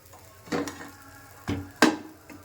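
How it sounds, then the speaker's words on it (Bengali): A pan lid is set down over coconut saaj pitha cooking in a pan, giving three short metallic clatters spaced about a second apart against a quiet kitchen background. "এখন ঢাকনা দিয়ে ঢেকে দিলাম।"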